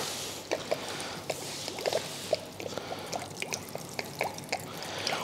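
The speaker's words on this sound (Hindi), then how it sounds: "ये देखिए पानी कितना फास्ट जा रहा है," Coconut water flows and drips from a coconut vending cart, a stream of irregular close droplets and splashes in a quiet setting.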